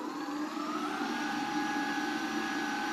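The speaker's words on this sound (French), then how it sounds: "Le double moteur est activé et on va accélérer." A Vsett 10 dual-motor electric scooter in sport mode, carrying a rider on a private road, accelerates with a steady, loud electric whine and a rising tone that holds throughout, with no talking.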